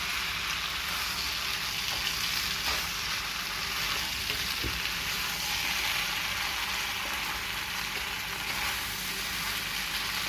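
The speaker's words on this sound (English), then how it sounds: "Just mix it up well." Red sauce pasta being stirred and mixed in a hot pan, giving a steady, loud sizzle and frying hiss with faint scraping from the stirring, close up and continuous with no talking.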